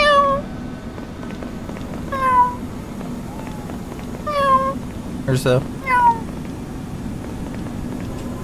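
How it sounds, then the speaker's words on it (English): A cat in a video game meows four or five times in drawn-out, clear calls spaced a couple of seconds apart, over a steady low hum, with a person talking. "I hear a cat meowing."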